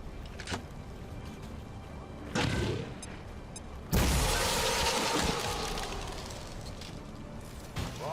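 A grenade blast in the video game XCOM 2 lands as a sudden loud burst of explosive noise with crackling debris that rings out for about a second before fading, preceded by lighter in-game impacts and whooshes.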